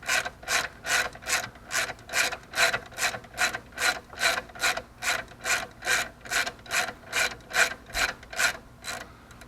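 Rapid ratchet wrench clicking on a 12mm tensioner bolt loosening the alternator belt of a Toyota Corolla 2ZR-FE, a steady run of about twenty crisp, evenly spaced clicks close up, alone.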